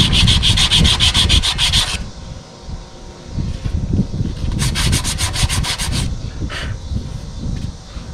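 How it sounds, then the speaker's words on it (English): Rust is hand-sanded off a part of an M&W 1500 round baler, loud close scratchy strokes in quick rhythmic bursts, pausing briefly and resuming, with rubbing and handling noise between. "we're just trying to get the rust taken off of it, and that's it."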